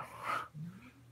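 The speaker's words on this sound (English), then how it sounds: "But no, Allie's a really sweet dog" A sweet-natured house dog kept at home alongside kittens and a tabby cat gives a brief, soft whimper up close, a short high whine of about a second that fades into quiet breathing.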